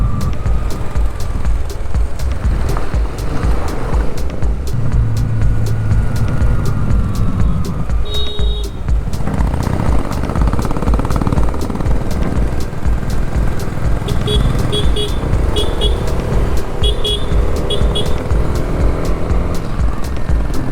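Honda CB 300R motorcycles ride along the Kudremukh Ghat road, engines droning steadily and wind rushing throughout, with rising and falling revs and a few brief higher-pitched whines.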